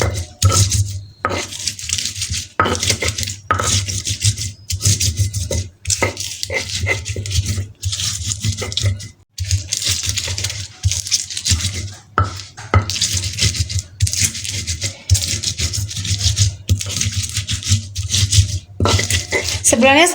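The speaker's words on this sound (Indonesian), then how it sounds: "cabai rawit setannya kita ulek dulu" Bird's eye chilies are pounded and ground in a mortar for sambal: repeated close rasping scrapes and dull knocks in an uneven rhythm, with a steady low hum underneath and a voice talking intermittently.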